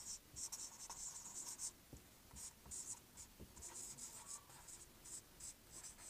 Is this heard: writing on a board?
yes